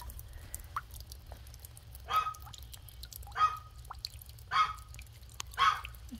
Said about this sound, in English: So there's a little dripping from that.